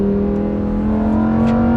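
Lamborghini Huracan EVO engine revving, a loud, close, sustained tone climbing steadily in pitch across a couple of seconds.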